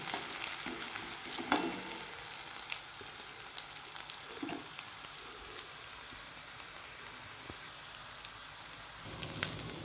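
A steady, quiet sizzle of potatoes frying in a pan, with occasional clinks and scrapes of stirring, no voices.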